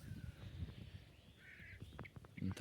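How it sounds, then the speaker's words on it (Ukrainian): Distant crows caw a few times across open air by a pond, faint and intermittent, with a low rumble underneath. "ворони кричать, такий ставок."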